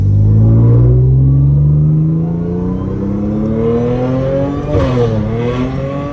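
Modified Audi S5 accelerating hard on its first drive, a loud rising engine roar through the gears with a brief shift dip, heard from inside the car with no talk.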